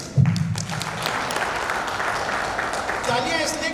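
Audience applause at a seed dealers' meeting in a hall, starting with a loud burst and continuing as a steady, dense crowd clapping, with a voice speaking over it near the end.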